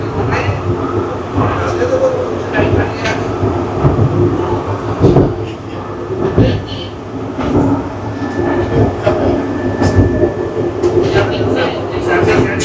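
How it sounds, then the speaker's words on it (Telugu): A train rolls through hilly country in Malaysia, giving a steady loud rumble with rail clatter and occasional sharp knocks throughout, with no talking over it. "కొండల్లో ట్రైన్ జర్నీ ఏమన్నా అసలు"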